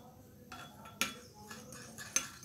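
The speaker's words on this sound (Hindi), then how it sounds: "अच्छे से मिक्स कीजिएगा ताकि ये जो हमारी फिटकरी पाउडर है ये लेमन और रोज़ वाटर के अंदर मिक्स हो जाए।" Alum powder being stirred into lemon juice and rose water in a small dish, with faint scraping and two sharp clinks of a utensil against the container, quiet and close.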